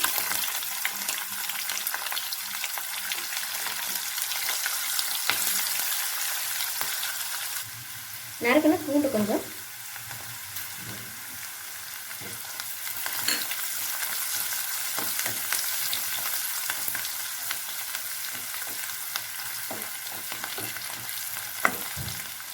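Garlic and onion sautéing in oil with mustard seeds and urad dal, a steady close sizzle throughout, with a brief louder clatter of stirring or added ingredients partway through.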